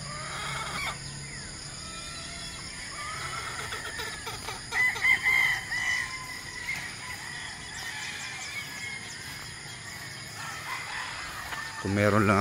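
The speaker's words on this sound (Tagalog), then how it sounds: "Sobrang daming manok." Many chickens crowd a gamefowl farm with rows of hens, some crowing and others clucking, giving a busy, overlapping chorus of near and distant calls.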